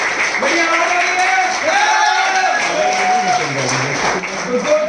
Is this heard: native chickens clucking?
no